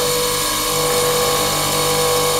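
A freshly sharpened milling cutter runs on a milling machine, giving a steady, loud mechanical whine with a constant motor hum and a continuous high-pitched hiss, with no talking.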